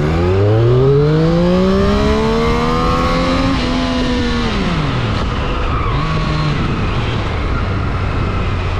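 A Triumph Street Triple S A2 motorcycle in first gear at full throttle, its loud engine note climbing steadily in pitch, briefly dropping at a gear change, then pulling on under steady wind roar.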